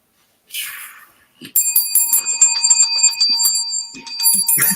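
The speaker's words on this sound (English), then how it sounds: "Mo, I can throw this bell at you, Mo." A small bell rings rapidly and loudly up close, a bright metallic trill lasting a few seconds, followed by more quick rings.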